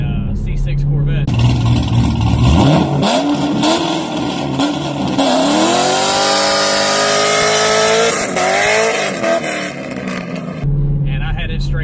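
Loud exhaust of a Jeep Grand Cherokee Trackhawk SUV revving hard and accelerating, the engine tone climbing through gears for several seconds, close and roaring, with someone speaking briefly at the start and end.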